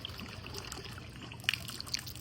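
Water from a hand pump trickles and dribbles faintly into a watering can outdoors at a botanical garden, with a few small splashes.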